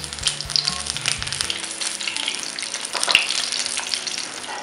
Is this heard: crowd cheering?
no